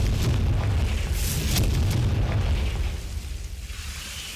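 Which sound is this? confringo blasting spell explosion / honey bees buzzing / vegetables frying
confringo blasting spell explosion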